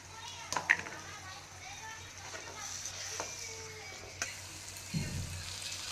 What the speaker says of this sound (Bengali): মশলা আমার এখানে কষানো হচ্ছে।